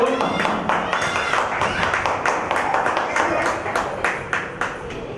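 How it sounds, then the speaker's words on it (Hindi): Sustained audience applause at a Hindi-language sixtieth-birthday felicitation ceremony in Rajahmundry, dense steady clapping from a large hall crowd with a few sharper individual claps standing out, continuing throughout. "जोरदार तालियां इनके लिए हो जाए"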